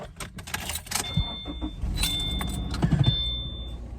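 Car interior on a long highway drive across the plains toward Sioux Falls, steady road and engine rumble throughout with a few light rattles and clicks near the start and around the three-second mark.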